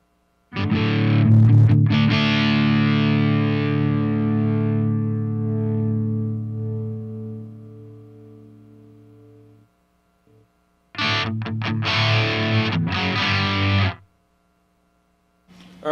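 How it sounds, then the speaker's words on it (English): An electric guitar played through a Mesa MK IV amp with high gain distortion: a loud sustained chord rings out and slowly fades, then a second burst of heavily distorted chugging chords cuts off abruptly. "add some clarity and some really good high gain distortion to it as well"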